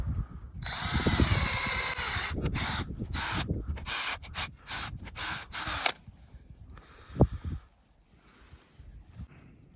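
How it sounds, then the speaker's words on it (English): A handheld drill whirs into a maple tree's wood in a long run, then stops and starts in short bursts before falling quiet, with a crow calling faintly. "So I'm gonna drill between two old holes."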